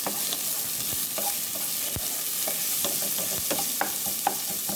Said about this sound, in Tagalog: Igisa natin ang sibuyas para mas maging mabango ang ating chicken barbecue.